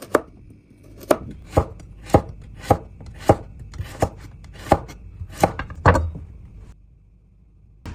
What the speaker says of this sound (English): Slice the carrot into diamond shapes.